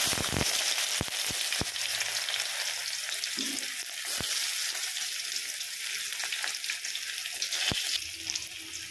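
Onions and panch phoron sizzle in hot oil in a pan, a steady close frying hiss broken by occasional sharp pops and clicks, with no talking.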